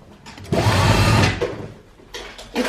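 A sewing machine runs in short bursts while stitching a dress lining, a close whirring buzz of rapid needle strokes that starts, stops and starts again.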